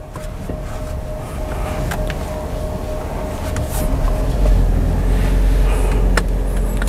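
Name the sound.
Toyota Innova Zenix hybrid car accelerating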